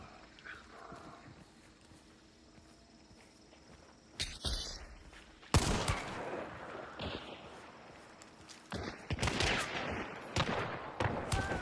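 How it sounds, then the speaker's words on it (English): Gunfire in the Hunt: Showdown video game: quiet ambience, then a sharp shot, followed by a burst of loud, rapid blasts and further shots near the end, mixed with movement noise. "Oh, somebody's shooting at me."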